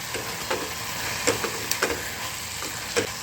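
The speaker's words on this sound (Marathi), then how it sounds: "शेंगदाण्याचा कूट टाकून देत आहे थोडासा" Crushed peanuts are stirred into vegetables cooking in a pan, giving a steady soft sizzle with a scatter of scraping spoon strokes at irregular intervals throughout.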